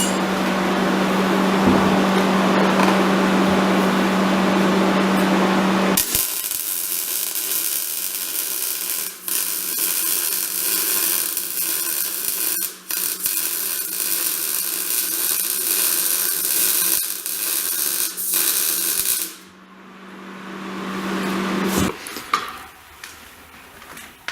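Taco gussets being zapped onto a V8 Crossfire project frame with a welder: a loud, steady crackling hiss that runs for several seconds at a time, then stops and restarts, with some clanking between the bursts.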